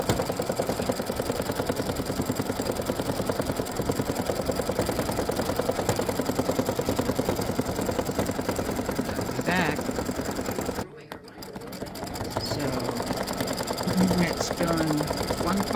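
An embroidery machine stitches the inside of a flamingo sunglasses design, giving off a steady fast mechanical whir and rapid needle pulse with a brief pause near the end, while a person talks over it.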